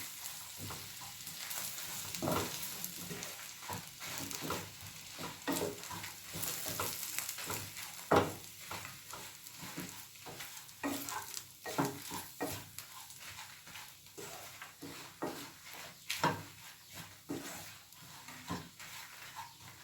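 Spices stirred through hot mutton curry masala in a pan on a Kerala stove, a steady soft sizzle broken by repeated scraping, clattering strokes of a spoon across the metal surface, close and fairly quiet.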